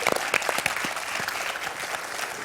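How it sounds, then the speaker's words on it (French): Studio audience on a French television quiz show claps steadily and densely for the whole stretch, a close, even wash of applause with a few sharper individual claps standing out. "Est-ce qu'on peut faire des applaudissements pour ce t-shirt,"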